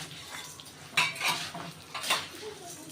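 Cloves and spices being stirred in hot oil in a pot for a large batch of Kolhapuri onion-garlic masala, with a few distinct metal scrapes and clinks of the spoon against the pot over a faint sizzle, close by.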